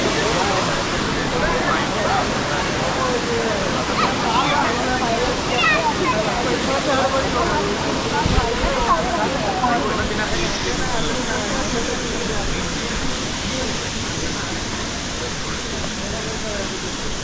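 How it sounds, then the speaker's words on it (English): A large jungle waterfall in the Western Ghats of Karnataka roars as a steady, loud broadband rush throughout, with voices faintly mixed in. "It's the first Indian waterfall."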